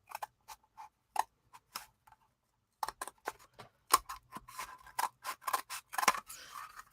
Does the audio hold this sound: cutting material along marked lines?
yes